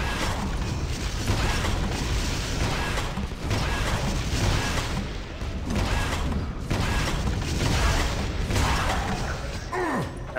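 A moving elevator in Quake 2: The Reckoning grinds and creaks with a continuous mechanical rumble, steady and fairly loud, with rhythmic clanking pulses recurring across the ride.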